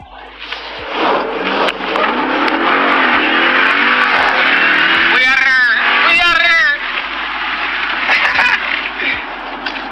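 A car engine revving loudly at close range, with rising and falling vroom sweeps while people talk over it.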